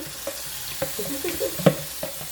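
Peppers sizzle in a hot pan with scattered crackles and a few stirring scrapes, close up and fairly loud, no talking.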